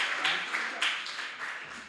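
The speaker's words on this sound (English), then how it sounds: "let's actually give a round of applause." Audience applause at an academic conference panel session, a brief light patter of clapping from a modest crowd, fairly faint and diffuse, lasting about two seconds.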